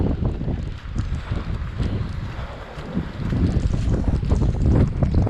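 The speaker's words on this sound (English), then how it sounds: "right now there's too much of wind that's pushing me towards the edge of the cliff" Strong monsoon wind buffeting the microphone at a cliff edge near Malshej Ghat, a loud, continuous roaring rush that swells toward the end, with no talking.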